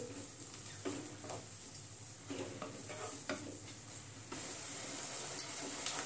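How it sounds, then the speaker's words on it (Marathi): Chopped onion sautés in a pan for pav bhaji, a soft steady sizzle with occasional scraping stirs of a spoon, quiet and close with no talking. "आपण कांदा गोल्डन कलर वर थोडासा परतून घेऊ।"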